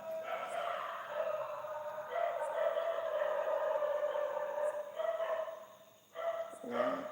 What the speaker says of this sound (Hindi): तेरे कुत्ता।